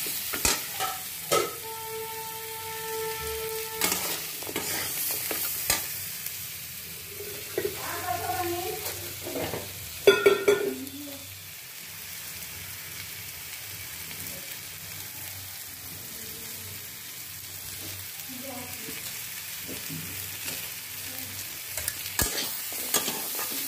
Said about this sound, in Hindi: तो ये मसाले सूखे हैं इसलिए ज़्यादा भूनने से जल जाएंगे